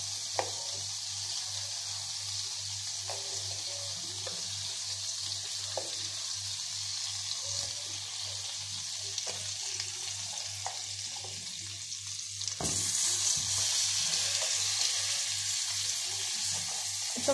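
Frozen potatoes for Peruvian salchipapas fry in hot oil, a steady hiss and crackle that swells louder near the end as more potatoes go in, with no talking.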